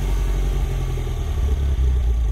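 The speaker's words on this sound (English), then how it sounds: "So let's begin with startup." A Mini R56 John Cooper Works race car engine starts and settles into a steady, deep idle, with a loud, continuous low rumble close by and no talk over it.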